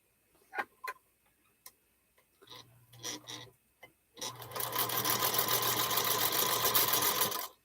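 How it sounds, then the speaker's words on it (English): A sewing machine joins table runner pieces: a few soft taps and short bursts of stitching, then a steady, fairly close whirring run of stitching through the last few seconds. "Now it's like you sew these pieces together."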